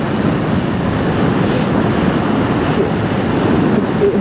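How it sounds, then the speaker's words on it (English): Steady, loud rushing wind roar with low rumble buffets the microphone while riding a Triumph Tiger 800 XCx adventure motorcycle, constant throughout with no voices. "Wind buffeting, not too bad, not too bad."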